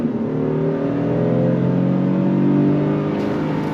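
A 2026 Honda Passport Trailsport's 3.5-liter V6 pulls away from a dead stop, its engine note climbing steadily and staying loud and close inside the cabin with no talking.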